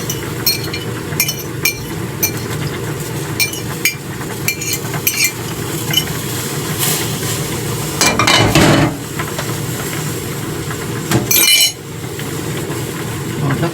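Eggs fry in a pan while being stirred, a steady sizzle with frequent light clinks of a utensil against the pan and a couple of louder scraping bursts, close and continuous in a home kitchen.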